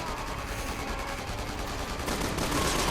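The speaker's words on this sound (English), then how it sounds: "Oh, come on, zombies with the guns and shooting." Zombies with guns open fire in the video game Resident Evil 6, a loud, unbroken rattle of rapid shots like a sustained firefight, dense and close with no pauses.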